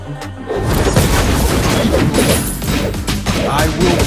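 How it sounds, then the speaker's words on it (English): A turret is destroyed in a MOBA video game amid dense, overlapping booms, crashes and thuds of battle effects that stay loud and busy throughout. "You destroyed a turret."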